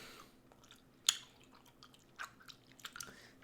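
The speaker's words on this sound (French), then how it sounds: "Tes mâchouillages me font du bien." Close, quiet chewing with soft crunches and moist squishing sounds, in irregular bites and one sharper crunch, heard alone without talk.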